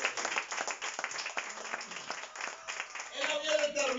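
A congregation in church applauds during a Spanish-language sermon, moderate steady clapping with voices and a rising sung or spoken tone near the end.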